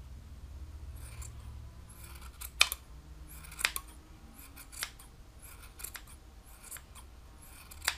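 Large scissors snip around a yarn pom pom to even it out, a series of crisp, close cuts spaced roughly a second apart over a quiet room.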